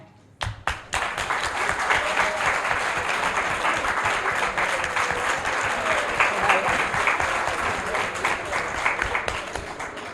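Audience applause at a philosophy conference, a dense, steady wash of many hands clapping that swells in after a brief gap and holds loud and even throughout.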